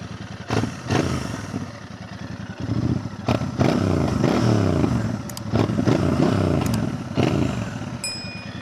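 A Royal Enfield Bear 650 motorcycle engine idles and revs repeatedly, its loud twin-cylinder throb rising and falling in several sharp bursts, close by.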